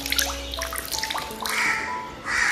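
Clear water flows at the Varada river source, a quiet, steady trickle with faint splashing and soft tonal chirps in the background.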